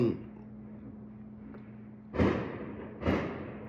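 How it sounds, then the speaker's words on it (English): Fireworks going off outside on New Year's Eve, two muffled booms about a second apart, heard indoors after a stretch of low steady hum. "You can hear the fireworks going off."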